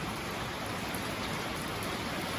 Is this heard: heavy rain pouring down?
yes